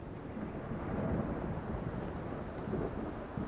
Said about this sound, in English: now it looks like it's just regular old rain